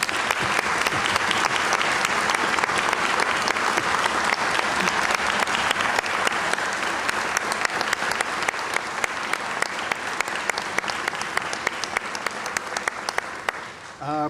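Sustained audience applause fills a large hall during the 2024 State of the State Address as family members stand to be recognized, loud and steady for about fourteen seconds before tapering off at the end.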